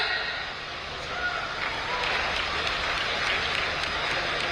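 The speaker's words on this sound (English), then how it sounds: "Those who are in the opening inaugural ceremony, can you please give me a cheer?" Crowd at the International Purple Fest closing ceremony cheering and applauding together, a steady broad wash of claps and voices held at even loudness for several seconds, somewhat distant.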